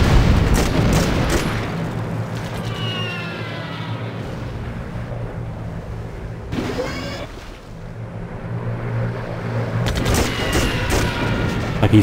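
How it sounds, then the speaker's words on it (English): An air raid with anti-aircraft fire in Civilization V, with booming blasts and rapid gunfire bursts that open loudly, ease into a steady rumble, then return near the end. "there's an air raid, and I just shot his fighter down"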